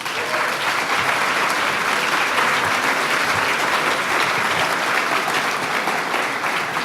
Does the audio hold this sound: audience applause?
yes